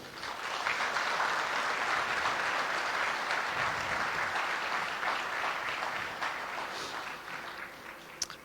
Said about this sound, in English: Let's give another big applause for them.